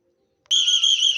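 A whistle blown once, a sudden shrill, steady high tone starting abruptly after near silence and held loud and close for under a second.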